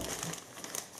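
Plastic wrapping crinkles close up as it is sealed over a printed photo for an open book photo cake, a brief, soft rustling burst.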